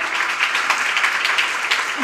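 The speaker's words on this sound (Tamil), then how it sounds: "அரங்கம் நிறைய கைத்தட்டணும்." Dense, sustained applause from a large crowd, steady clapping filling a reverberant room with no pauses.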